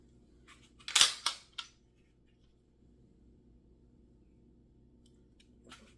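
A Glock 45 Gen 5 MOS pistol is cleared up close, with a quick cluster of sharp metallic clacks and a slide rack in the first couple of seconds. Near silence follows, then one faint click near the end.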